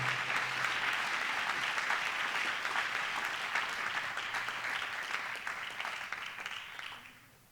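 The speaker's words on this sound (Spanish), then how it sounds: "Dele un aplauso al rey en esta hermosa" A church congregation applauding during a sermon, continuous dense clapping that holds steady for several seconds and then fades out gradually.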